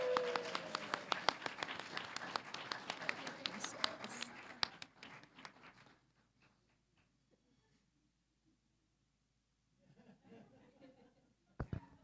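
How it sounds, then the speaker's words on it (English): Applause from a tournament audience at a classic Tetris championship final honoring champion Blue Scuti, a dense burst of clapping that fades out, then silence, then a few scattered claps returning at the end. "Another round of applause, our champion, Blue Scuti."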